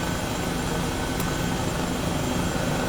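Steady, loud engine and rotor drone of an H135 helicopter in Microsoft Flight Simulator 2020, a continuous even roar with no talking over it.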